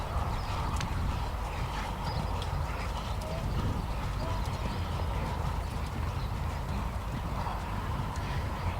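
A dressage horse cantering through collected and extended canter with flying changes at a Grand Prix festival arena, hoofbeats soft and rhythmic against a steady, faint outdoor background.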